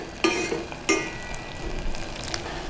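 A bit of butter sizzling in a hot pan with apple mixture, a soft steady frying hiss broken by a couple of sharp clinks, close and quiet with no voices.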